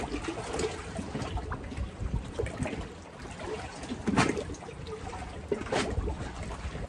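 Water trickling and splashing while a freshly cleaned rainbow trout is rinsed outdoors, a soft, uneven running flow with a few louder splashy bursts throughout.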